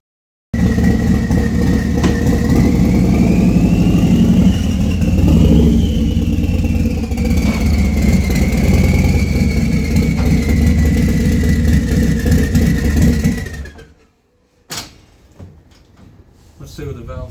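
A turbocharged Harley-Davidson Low Rider ST idles loudly and steadily with a rising and falling turbo whine for about thirteen seconds, then cuts out, leaving a few faint clanks.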